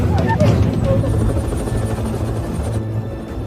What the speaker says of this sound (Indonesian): Dari atas juga terlihat sebuah helikopter yang sedang mencari keberadaan Elizabeth